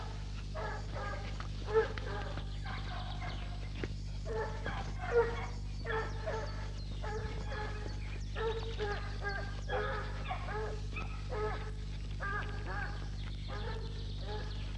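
A hunting dog holds a wild boar at bay, barking and yelping in steady repeated bursts that carry on without pause, moderately close, over a constant low hum.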